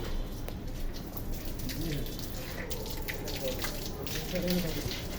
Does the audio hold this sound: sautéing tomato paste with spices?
no